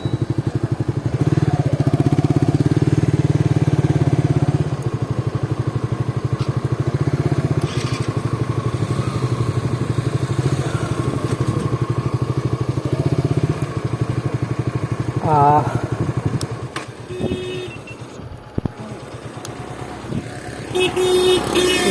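A Yamaha FZ v2 motorcycle engine revs hard and climbs through the gears close by, loud and continuous, with pitch sweeps at each shift and a brief horn-like toot late on.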